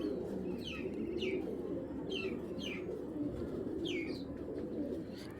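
Giribaz pigeons coo in a continuous low burble, with short higher chirps repeating every second or so over the steady flock murmur.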